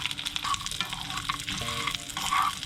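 Dried anchovies crackle and sizzle in hot oil in a pan for sambal, with scraping stir strokes through a steady close fry and no talk.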